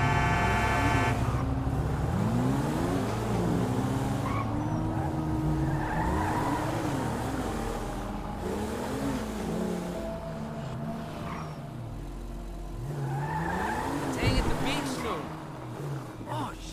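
A car in GTA 5 story mode drives with revving engine pitch swoops, tire squeals and skids throughout, while a voice talks over the driving.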